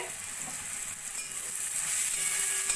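Steady sizzling of vegetables frying in a pan for hakka noodles, a dense hiss that grows slightly louder toward the end, with no voices.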